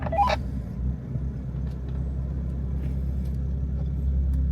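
A Morgan sports car, a Plus Four or Plus Six, driving along with a steady low engine rumble heard from inside, a brief sharper sound at the start, and the drone continuing evenly through a gear change.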